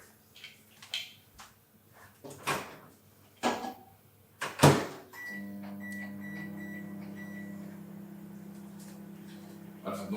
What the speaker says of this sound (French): Et là on est parti mettre ça au micro-ondes.